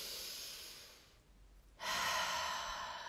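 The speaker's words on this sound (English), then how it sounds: "just take a deep breath." A single deep breath: a long, soft inhale, a short pause, then a fuller, louder exhale, close and alone with no talking.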